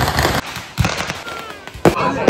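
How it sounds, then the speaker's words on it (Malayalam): Fireworks bursting at a Kerala temple theyyam festival, several sharp loud bangs at irregular intervals with crackling in between, and crowd noise running underneath. "പിന്നെ അതിനുശേഷം നല്ല അടിപൊളി വെടിക്കെട്ടുണ്ടായിരുന്നു"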